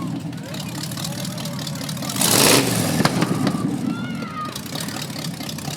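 A motorized shopping cart's engine runs along a small-town parade route at Spud Fest, a steady mid-range drone with a brief louder surge partway through, amid crowd noise and a voice over the loudspeaker.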